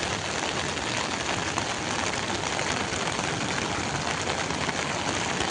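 Heavy monsoon rain pours down in a dense, unbroken roar over farmland, loud and even throughout with no voices.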